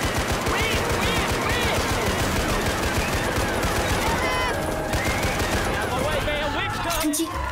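Rapid, sustained automatic gunfire as players shoot the Witch in Left 4 Dead 2, dense bursts rattling loudly and close for most of the stretch, with voices talking over the shooting.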